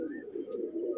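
A pigeon coos once in a low, steady murmur, close and alone with no talk.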